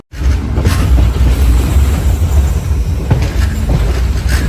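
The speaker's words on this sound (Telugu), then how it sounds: "మన ట్రైన్ అయితే శృంగవృక్షం స్టేషన్లో అయితే స్టాప్ చేయట్లేదు" A MEMU express train runs through Srungavruksham station without stopping, a loud, continuous rolling rumble with rattling wheels and a few sharper knocks, heard close and alone.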